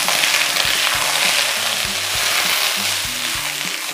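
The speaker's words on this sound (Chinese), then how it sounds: "先把这个海干货和猪骨头放进去炒一下" Dried seafood and pork bones stir-fry in a hot, lightly oiled pan, giving a loud, close sizzle broken by regular scraping and tossing strokes of a utensil.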